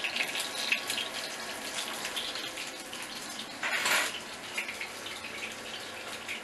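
Churros frying in hot oil, with a steady broadband hiss and crackle and a brief louder burst of spatter near the middle, close by.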